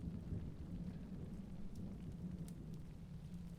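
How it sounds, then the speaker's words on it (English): Heavy rain pours steadily with a deep rolling thunder rumble underneath, a stormy ambience from the adventure game Secret Files: Tunguska, continuous and close with no voices. "It's raining cats and dogs."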